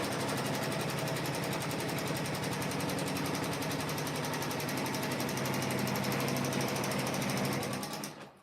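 A Janome M17 embroidery machine stitches a quilt block in the hoop with a fast, steady mechanical needle rattle that runs loud and unbroken for several seconds before stopping at the end.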